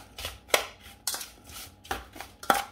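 Strawberries stirred in a bowl with two spoonfuls of sugar for a crumble, giving a few separate clinking, scraping strokes about half a second apart, close and fairly quiet.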